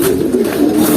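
Pigeons cooing close and loud in a continuous low throaty hum at a racing pigeon loft, with wind in the background.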